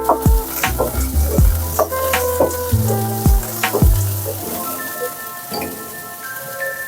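Thinly sliced carrot stir-frying with large onions in a pan for chow mein: a steady close sizzle broken by repeated scraping strokes of a spatula, with no voices.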